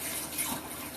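Liquid poured into a pot of chili, a short, steady watery splash and gurgle heard alone at close range.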